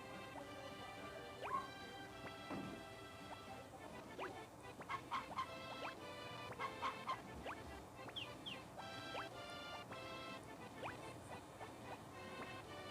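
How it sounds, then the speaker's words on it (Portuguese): Chickens cluck on a farm in the Game Boy Advance video game Harvest Moon: Friends of Mineral Town. Faint, short, chirpy clucks repeat in small bursts over quiet background game music. "Tem duas galinhas agora, então tá bom."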